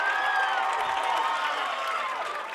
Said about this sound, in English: Let's give a round of applause for our marching band one more time.